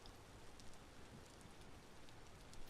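Hail falling in the video game Vintage Story, a faint, steady hiss of dense pattering with scattered small ticks and no voices.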